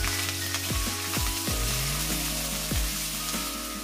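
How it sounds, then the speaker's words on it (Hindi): Homemade ginger garlic paste frying in hot oil, a steady loud sizzle and crackle throughout, with a few stirring scrapes breaking in. "सो आमचें आलें लसूण बरो फ्राय जाता."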